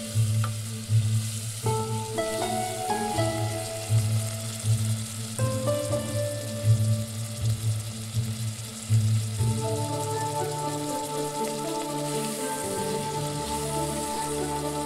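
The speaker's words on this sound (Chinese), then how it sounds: "小火慢炕" Egg-filled flatbread, jidan guanbing packed with four eggs and chopped scallion, slowly frying on low heat in Kaifeng, Henan; a continuous close sizzle and crackle with a steady low hum underneath, no voices.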